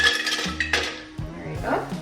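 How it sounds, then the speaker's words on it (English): Dark chocolate dropped into a small metal pan for melting, with clanks and scraping of pan and utensil, ringing metallic tones and a steady background hum. "I'm gonna put the chocolate, dark chocolate, in the small pan."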